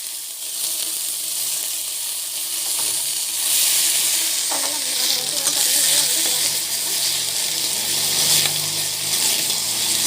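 Okra sautés in hot oil, a constant close crackling sizzle with occasional stirring scrapes and a faint tonal clink midway.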